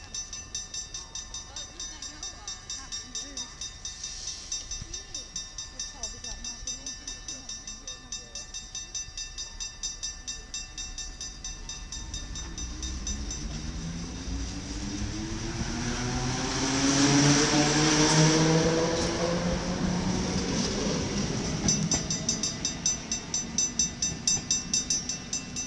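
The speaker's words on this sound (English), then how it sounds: "Met 964 departing Metro Station Geleen-Lutterade." Mat '64 Plan V 964 electric train pulling out of Geleen-Lutterade station, its motors whining and rising in pitch as it accelerates, loudest midway, over steady station hum.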